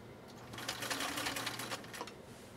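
A Viking Husqvarna Type Class 8E rotary sewing machine stitches a row at speed, giving a quiet, steady rapid mechanical patter that stays even throughout with no talking.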